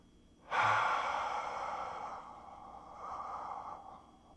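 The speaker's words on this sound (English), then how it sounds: "So, long exhale." A single long, breathy exhale begins sharply and then trails off slowly, soft and close, during a relaxed lying-down breathing exercise.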